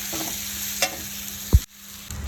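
Chopped onions sautéing in a pan for chicken curry, a steady close frying hiss broken by a couple of sharp knocks and a scrape, with no voices.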